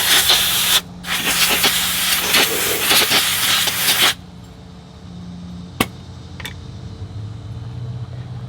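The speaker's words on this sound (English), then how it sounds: "Take an air blower, blow it off." An air blower hisses loudly in a continuous blast as paint chips are blown off CAT D7R track parts, then cuts off, leaving quieter shop ambience with a few sharp clanks.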